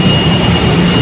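Inside a ship's engine room, machinery makes a loud, steady roar that fills the space, a dense unbroken drone with no gaps or voices.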